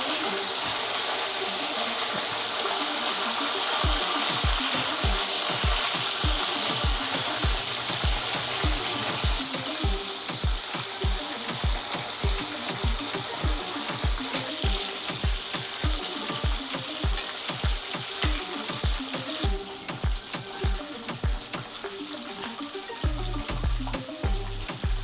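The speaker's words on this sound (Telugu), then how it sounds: "ఫస్ట్ నూనె ఏడెక్కింది, ఈ చేపలు వేస్తున్నా." Fish frying hard in hot oil for a fish curry, a steady loud sizzle and crackle with repeated sharp stirring or scraping taps across the whole stretch, no talk.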